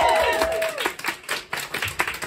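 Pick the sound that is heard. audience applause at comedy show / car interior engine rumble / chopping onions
audience applause at comedy show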